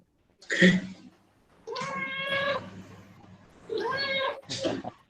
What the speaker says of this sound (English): Someone's cat.